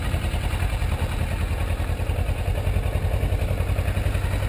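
A motorcycle engine runs steadily close by, a loud, even, rough mechanical throb with clatter and no clear surge as the clutch is let out and the bike starts to move.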